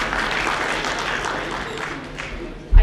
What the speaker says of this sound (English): please welcome our distinguished panel here on the stage with a warm round of applause